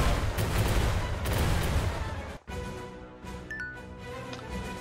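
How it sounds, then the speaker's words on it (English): Ship cannon bombardment in the naval video game Uncharted Ocean, a dense roaring barrage of blasts that cuts off abruptly midway, then gives way to quieter game music and lingering rumble. "After the indiscriminate bombardment, Joseph's ships are obliterated."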